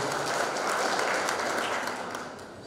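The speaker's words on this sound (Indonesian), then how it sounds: "Boleh beri tepuk tangan yang meriah untuk kita semua." A crowd in an opening ceremony hall for a regency-level museum quiz contest claps together, producing a steady wash of applause at moderate distance that fades slightly toward the end.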